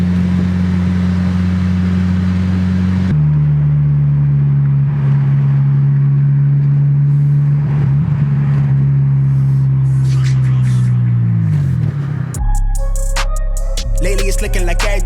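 A 2006-2011 Honda Civic Si with a K-Tuned turned-down muffler idles steadily with a low rumble, then revs and shifts pitch before a burst of clattering, higher mechanical noise near the end.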